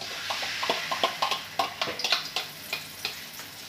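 A pan of cooked rice being stirred, the spatula scraping and tapping against the pan in repeated uneven strokes over a steady sizzle of frying.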